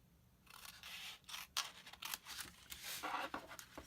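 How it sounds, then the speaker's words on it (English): Scissors snipping paper while trimming a small triangular end off a tall gift bag, a few close, crisp cuts and rustles spread unevenly across the stretch, with no talking. "I'm going to just cut that off because I don't need this little piece"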